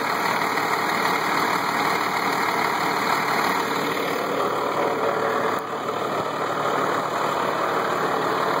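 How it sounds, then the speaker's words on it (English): A 1996 Ford Thomas activity bus with a 5.9L Cummins diesel idles steadily nearby on a cold start, a continuous throbbing rumble with a whining hum on top, unchanging throughout. "You can hear the engine running again."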